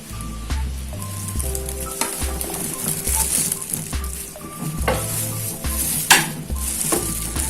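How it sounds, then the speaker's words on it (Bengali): Kalojam sweets made from powdered milk being stirred in sugar syrup, with a low bubbling sizzle and repeated clinks and scrapes of a utensil against the pan, a louder knock near the end, and music underneath. "খুব ভালোভাবে নেড়ে চেড়ে দিব"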